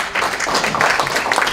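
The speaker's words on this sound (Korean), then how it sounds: "큰 박수로 맞이해 주시기 바랍니다." Audience applause welcoming a speaker to the stage at an ESG economic forum, a steady wash of many hands clapping at once, filling the brief moment evenly.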